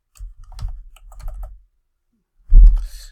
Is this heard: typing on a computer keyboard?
yes